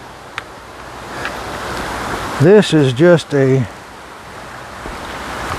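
Beneath a trail bridge on the Appalachian Trail, a river rushes along in a steady broadband wash that runs through the whole clip, with a few spoken words briefly over it partway in.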